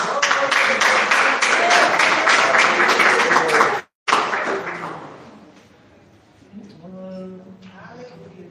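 A crowd claps steadily and loudly for several seconds at a church service, then the applause cuts off, leaving quieter room noise and a voice afterward.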